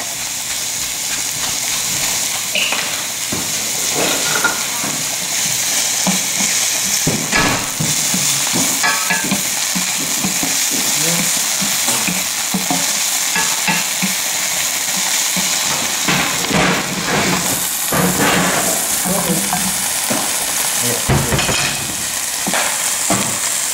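Garlic sizzling in a pan while being stirred constantly, a continuous loud frying hiss with scraping utensil strokes, no talking.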